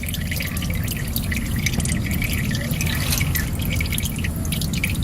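Motor oil pours steadily out of a Ford Focus ST's drain hole into a pan, making a continuous dense patter and trickle at close range, with no talking.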